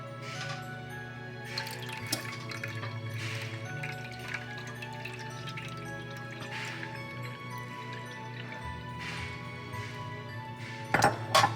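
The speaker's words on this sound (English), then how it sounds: "So I'm gonna go ahead and pour more water." Water is poured into a pan for baking flan, giving a steady, soft trickle and drip that runs on for several seconds, with a couple of light metallic clinks near the end.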